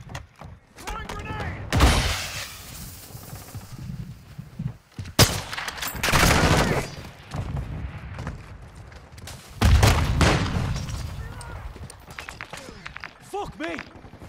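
Grenade blasts and gunfire in Call of Duty: Modern Warfare II, several heavy, loud booming bursts with rattling shots and rumbling between them, and voices mixed in.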